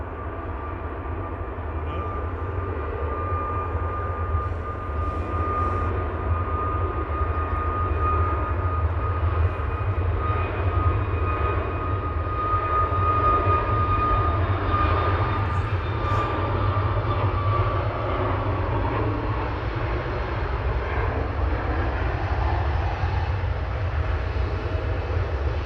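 A jet airliner lands at Manchester Airport and applies light reverse thrust, producing a loud, sustained engine roar with whining tones that holds steady for the whole stretch, heard from a distance with no voices.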